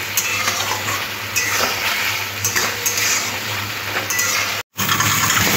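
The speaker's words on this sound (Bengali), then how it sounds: "দেখুন আলুটা খুব ভালো করে কষে নিয়েছি" Potatoes stir-fried with spices in a pan, with a continuous close sizzle and periodic scraping and clinking of a spatula against the pan, broken by a brief silent gap near the end.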